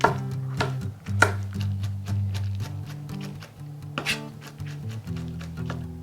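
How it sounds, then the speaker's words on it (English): Pecans being chopped with a knife on a cutting board, a quick irregular series of sharp close taps and thuds over a low steady hum, with no talking. "If the pecans you bought aren't chopped up, you're going to have to chop them up as small as possible"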